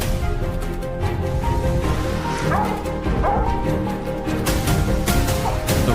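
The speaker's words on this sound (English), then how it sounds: "The rapid barking of the hunting dogs led Blake deeper into the forest." Hunting dogs bark rapidly in the forest while pursuing wild boar on a farm, a steady run of overlapping barks and yips at moderate distance over dense outdoor background noise, with no talking.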